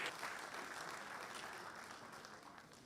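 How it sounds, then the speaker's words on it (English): Faint, steady applause from a distant crowd at a Lagos State University convocation ceremony, a continuous wash of clapping that slowly tapers off. "Please clap for that institution,"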